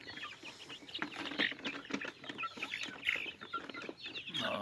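A rooster among chickens clucks in a farm pen, with repeated soft clucks and scratchy shuffling in a continuous, fairly close, moderately quiet flock murmur.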